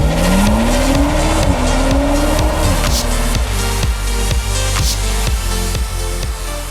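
A new Audi A5 sedan pushed hard through corners, its engine revving and shifting up loudly while tires squeal through the bends, heard close from the car.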